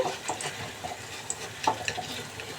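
Khaja pastries fry in hot oil, a soft continuous bubbling sizzle with light scraping and stirring clicks as they are lifted from the pan, close and fairly quiet.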